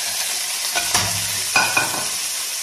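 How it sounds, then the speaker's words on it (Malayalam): Onions stirred and sautéed in a pan for a chicken stew, with a steady sizzle underneath and a few distinct scraping strokes of the spoon against the pan, close up and with no talking. "ഈ ഉള്ളി നമ്മൾ അടച്ച് വെച്ചൊന്ന് വഴറ്റി എടുക്കാൻ പറ്റും. ഇളക്കണം."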